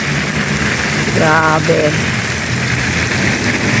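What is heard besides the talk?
rain splashing upward from below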